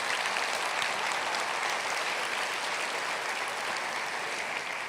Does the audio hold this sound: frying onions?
no